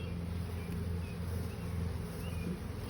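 Agitated honey bees buzz loudly and steadily at an open hive during grafting, a dense, continuous drone close by with no speech over it.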